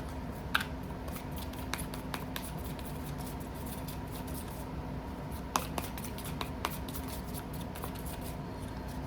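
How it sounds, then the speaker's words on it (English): Animal spirit oracle cards are drawn from a deck in sparse, light, close clicks and slides over a steady low room hum, with no one speaking. "I'm going to go ahead and pull out a couple of animal spirit oracle cards."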